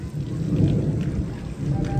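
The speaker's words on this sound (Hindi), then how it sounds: "बादल गरज रहे हैं, बादल गरज रहे हैं" Thunder rolls low and continuous through heavy rain, a dense steady wash of falling water with a deep rumble underneath and no voices.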